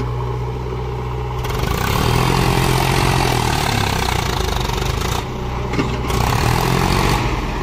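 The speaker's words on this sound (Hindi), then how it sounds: "ये देखिए भाई स्वराज ट्रैक्टर की परफॉर्मेंस देखिए आप अभी" A Swaraj 744 XT tractor engine runs with a loud, heavy low-pitched rumble that rises and falls in revs, close to the microphone and continuous throughout, with no voices.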